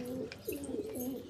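A pigeon coos in low, rolling phrases, several soft throaty calls close by with faint background noise and no talking.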